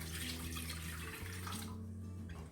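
Water pours steadily from a running kitchen tap into a pot holding butter for a Texas sheet cake, a continuous splashing rush with a shifting pitch as the pot fills.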